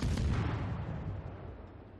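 A cruiser's naval gun fires in a video game: one heavy, booming blast with a broad rumble that slowly fades over about two seconds, loud and close, with no talking.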